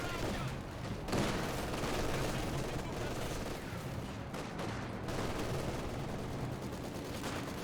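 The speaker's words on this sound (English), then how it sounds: "Maxim firing away" Maxim machine gun fire in a Company of Heroes 2 battle, with dense continuous gunfire and explosions forming a loud, unbroken wall of combat noise throughout.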